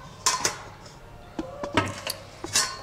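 Knife slicing through a whole unpeeled eggplant into thin strips on a cutting board, a few separate crisp cuts and board taps spread out, close and fairly quiet.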